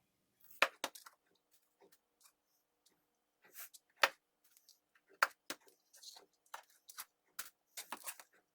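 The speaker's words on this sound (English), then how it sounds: "take this top part here and cut some of it up" Knife chopping carrot tops on a cutting board for a stew, a series of sharp, irregular taps spaced apart with quiet gaps between them.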